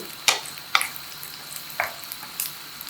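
Chopped onions frying toward brown in a pot for bhandara daal, with a handful of distinct spoon scrapes and stirs spaced apart over a low, steady sizzle, close and fairly quiet, no speech.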